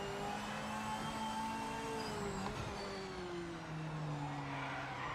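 Tires sliding and squealing on a race car in Project Motor Racing, a steady sustained screech with gliding pitch over continuous engine drone, lasting the whole stretch.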